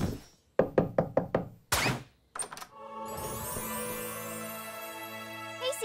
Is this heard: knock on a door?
yes